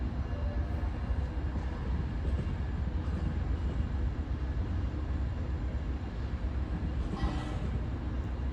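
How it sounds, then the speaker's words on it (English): An Amtrak passenger train diverges onto a lead track near LA Union Station, producing a steady broadband rumble of wheels and cars rolling past at moderate distance. A brief higher squeal rises near the end. "This train diverges onto the 5 lead before knocking down the signal."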